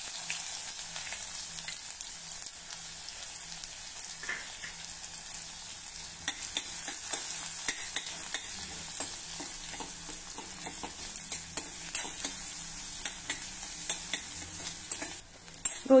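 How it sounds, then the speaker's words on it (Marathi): Mustard seeds, cumin and onion sizzle steadily in hot oil for a potato stuffing, a constant close frying hiss with faint stirring scrapes throughout and no talking. "तेल गरम झालं की यामध्ये थोडी मोहरी घालूया, जिरे, एक मध्यम आकाराचा कांदा,"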